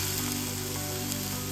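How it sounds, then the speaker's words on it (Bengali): Lai leaf greens frying in a pan make a steady, soft sizzle over a low background hum, brief and unbroken. "লাই পাতা শাক ভাজি করতেছি।"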